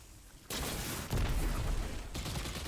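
Rapid SMG gunfire in Destiny 2, a short stretch of dense, loud automatic bursts starting abruptly after a quiet moment and continuing with a brief pause, no talking.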